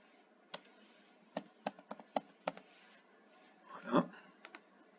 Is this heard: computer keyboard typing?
yes